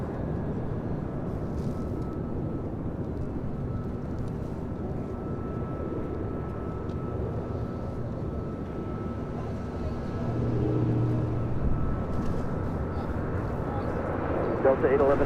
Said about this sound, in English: So I have a Japan Airlines Dreamliner about to touch down on the north side at 24 left.